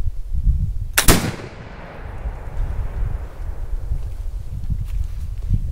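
A flintlock rifle loaded with 60 grains of powder and 7.5 birdshot fires once outdoors: a single sharp, loud report followed by a long, rumbling decay of echo and background noise.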